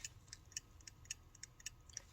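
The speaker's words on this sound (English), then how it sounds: "it's ticking. You guys hear that?" A Linden Black Forest mechanical alarm clock made in West Germany ticks steadily and quietly, a regular light tick-tock of about five beats per second, close up with no talk.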